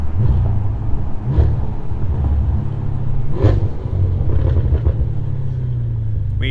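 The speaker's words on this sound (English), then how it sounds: "we also have burbles" Audi exhaust burbling and popping right after a full-throttle pull, loud close rumble with several sharp crackles scattered through, no talking.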